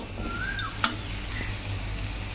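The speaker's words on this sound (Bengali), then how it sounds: "এবারে এগুলো সব ভালো করে মিশিয়ে নেব।" Potato sandwich filling is stirred and mixed in a pan over a soft, continuous sizzle, with one bright clink of a utensil against the pan.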